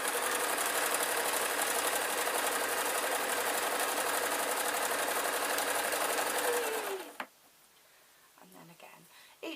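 Sewing machine stitches fabric strips for a rag rug with a steady, dense mechanical whir that runs for several seconds and then stops abruptly, followed by quiet handling noises.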